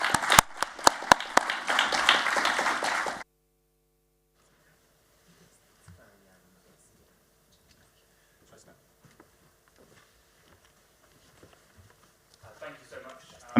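Audience applause for workshop speakers at a nature-positive finance event, a dense burst of clapping for about three seconds that then cuts off to near silence with faint rustles.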